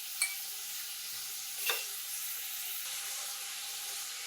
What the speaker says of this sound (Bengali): আর এদিকে পেঁয়াজটাও ভাজা ভাজা হচ্ছে